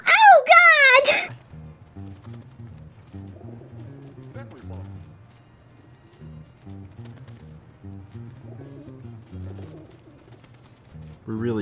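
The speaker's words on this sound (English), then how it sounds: "I'm wondering how many pigeons show up." Video game pigeons let out a loud burst of cooing at the start, then faint game sounds and soft melodic tones continue, with another coo rising at the very end.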